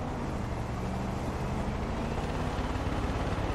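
A heavy vehicle in Far Cry 5, looking like a Grave Digger-style monster truck, with a steady, loud, broadband engine roar that thrums like a helicopter rotor, continuous and close throughout.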